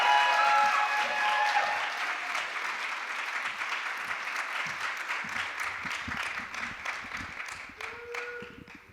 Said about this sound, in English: Clap, clap, clap for the poet.